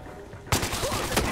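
Gunfire in Battlefield Hardline breaks out abruptly as a rapid, loud burst of automatic shots after a short stretch of quiet game ambience.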